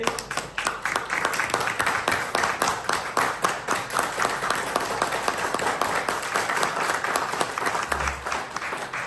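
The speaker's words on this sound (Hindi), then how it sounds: "एक बार जोरदार तालियां आप सभी के लिए।" Sustained applause from a seminar audience, many hands clapping steadily and loudly for several seconds without a break.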